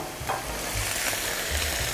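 Liver sizzles in hot oil with garlic in a pan, a steady close frying hiss with soft stirring scrapes and no speech.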